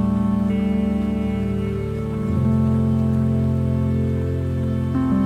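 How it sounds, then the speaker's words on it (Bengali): Heavy rain falls steadily in a Himalayan village near Pelling, Sikkim, a dense continuous hiss close by with a steady low hum running underneath, and no voices. "এখন খুব বৃষ্টি হচ্ছে।"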